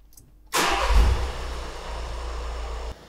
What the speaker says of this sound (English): We're going to start the engine and we're going to run the activation.